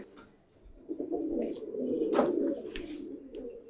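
Giribaz pigeons coo softly in a loft, low rolling calls rising and falling over a few seconds, fairly faint and close, with no voices.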